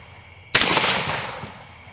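A 12 gauge shotgun fires one loud, sharp buckshot blast after a quiet moment, and the boom trails off in a long decaying echo.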